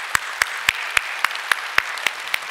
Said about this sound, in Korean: 모든 감사의 마음을 담아 하나님께 우리 감사의 박수 올려드리도록 하겠습니다